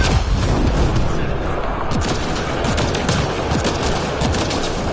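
A sustained, loud fusillade of rapid gunfire from a Mass Effect: Andromeda firefight with pirates, dense overlapping shots and booms filling every moment.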